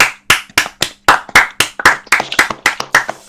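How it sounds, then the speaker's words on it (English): Podcast hosts clap in a brisk, uneven run of about a dozen sharp, close hand claps, each distinct with brief gaps between, no talking over them. "Everyone clap. Clap now."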